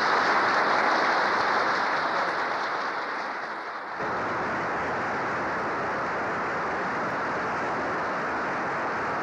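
Sustained audience applause at Hobe Sound Bible College welcoming the Vice President of the United States, a steady roar of many hands that dips slightly midway and then holds at full strength, with no speech over it.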